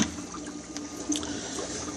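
A canister filter on a 125-gallon aquarium pushes water through with a steady close trickling, gurgling wash that stays even throughout.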